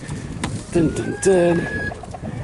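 Small, noisy bantam chickens kept in a backyard flock give a couple of short tonal calls close by, two distinct bursts over a steady outdoor background murmur.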